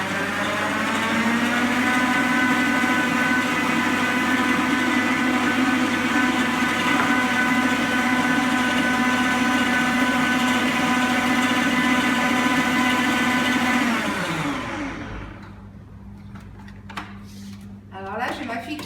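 Electric hand mixer whirring steadily at close range as it beats brown sugar and a whole egg into cookie dough, running loud and constant for about fourteen seconds before winding down and stopping, followed by faint kitchen clatter.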